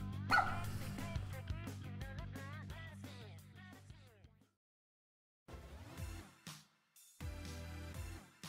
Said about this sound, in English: that dog outside was so quiet until now.